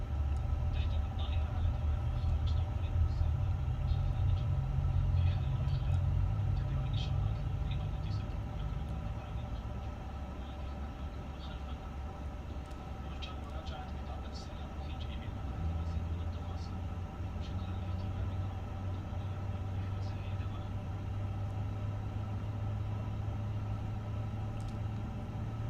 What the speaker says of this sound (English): And you can just hear the engines getting started up.